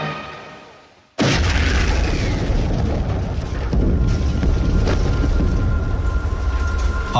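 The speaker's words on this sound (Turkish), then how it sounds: "Fransız yük gemisi La Coubre Havana limanında patladı." A cargo ship explodes in Havana harbour: a sudden loud blast cuts in after a second of fading noise, followed by a sustained roaring rumble that fills the rest of the clip.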